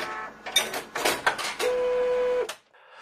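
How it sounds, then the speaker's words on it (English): An inkjet printer runs through a printing pass, with several quick mechanical clicks and carriage bursts followed by a sustained motor whine lasting close to a second, close and fairly loud, with no voices. "So how does an inkjet printer work?"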